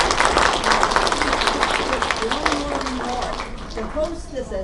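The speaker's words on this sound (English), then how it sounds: "let's give them a round of applause." An audience at a historical society quilt event breaks into steady, close applause that fills the room, gradually thinning out as voices rise underneath it.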